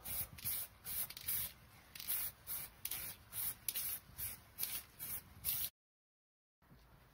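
A spray can lays light coats of primer onto a metal sign mounted on cardboard, in about nine short hissing bursts at a steady rhythm, close and fairly quiet, followed by a brief silence and a faint tail.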